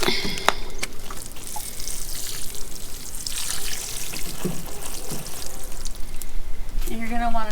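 Water pours from a watering can and splashes steadily onto soil around plants, a continuous trickling wash with brief clinks, ending with a faint rhythmic rattle.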